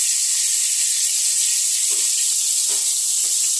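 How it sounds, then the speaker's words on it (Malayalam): Quail pieces dropped into boiling coconut oil, a steady loud hiss of frying oil with a few brief bursts of sharper crackle as the meat hits. "അങ്ങനെ വെളിച്ചെണ്ണ തിളച്ചു. ഇങ്ങനെ കാടയുടെ കഷ്ണങ്ങളൊക്കെ ഇട്ട് കൊടുക്കണേ."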